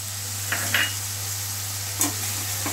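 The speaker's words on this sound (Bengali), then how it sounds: "ভালো করে নেড়ে চেড়ে নেব" Ginger paste and turmeric fry in a pan as a vegetarian potato dish is started, with a steady soft sizzle and a few brief scraping stir strokes over a low constant hum.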